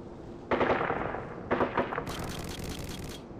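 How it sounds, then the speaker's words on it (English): P90 submachine gun fire in Call of Duty on the Backlot map: two rapid, loud automatic bursts close by, followed by a fainter rattling tail, with no talking. "Shooting a P90 like a crazy person."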